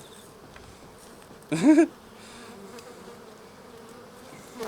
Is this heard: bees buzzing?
yes